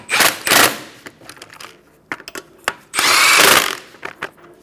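A power tool rattles in two short loud bursts as it tightens wheel lug nuts on a 2014-2019 Kia Soul, with clicks and handling noises between them.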